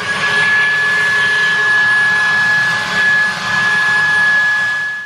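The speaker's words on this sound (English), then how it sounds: "So to clean it, I just use my handheld shark hoover, and it's super easy." A Shark handheld vacuum cleaner runs on a Breville Impressions kettle and toaster set, a loud, close, continuous whine with a steady high tone that dips only briefly as it moves.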